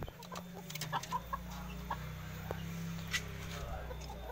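A bantam Kate rooster clucks in its cage, several short close clucks over steady farmyard background with a low hum running underneath.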